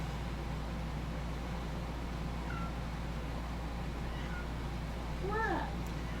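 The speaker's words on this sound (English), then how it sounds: "Speaking of pets, our cat's wandering in." A house cat wanders into a room and gives a few short meows near the end, rising and falling, over steady fan-like background hiss with occasional quiet talk.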